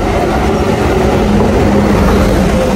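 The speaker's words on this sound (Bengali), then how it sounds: "যে আমাদের ট্রেন ফাইনালি ঢুকছে, আজকের কাঞ্চনকন্যা এক্সপ্রেস" The Kanchankanya Express pulls into a station in a steady, loud, continuous rumble of rolling wheels and carriages, close by and unbroken.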